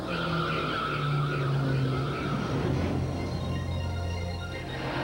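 A 1992 Chevy Lumina Z34 with a twin dual cam V6, tires squealing and skidding loudly under steady engine roar, a sustained screech that fades slightly toward the end.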